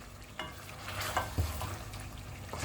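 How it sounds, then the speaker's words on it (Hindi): Tomatoes being roasted in a pan for Peshawari charsi mutton karahi give a steady close sizzle, with a few louder scraping stirs of a utensil against the pan and no talking. "ये हम ना इसी तरह थोड़ी सी इसकी भुनाई करेंगे"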